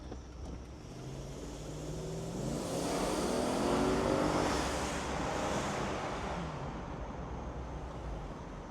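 A 1998 Mercedes-Benz G500 Cabriolet pulls away from a stop, its engine rising in a smooth swell of revs to a peak near the middle, then easing off, heard from inside under road noise.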